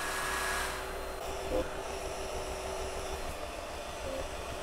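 A fan on an Anycubic Kobra 3 3D printer cools the nozzle after wiping, giving a steady, fairly quiet broadband whir that runs the whole time with little change.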